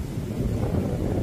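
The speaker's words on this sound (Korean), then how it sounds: "오늘 유난히 바람이 세는 것 같습니다." Strong wind gusts across the microphone at a Hawaiian seaside with big waves, a dense, low rumbling roar that fills the whole stretch without any talk.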